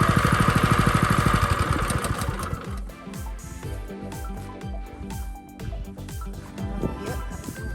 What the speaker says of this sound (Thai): ไม่ก้อยมาปิดเครื่องสูบน้ำ